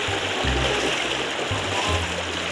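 Flowing river water runs steadily as people wade across a slippery, mossy, rock-strewn riverbed, a continuous broadband rush with low bursts of splashing throughout.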